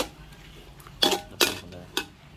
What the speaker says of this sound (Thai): โอเคตักใส่จานเลยครับ